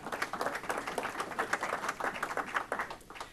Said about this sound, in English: Could we all give them a nice round of applause?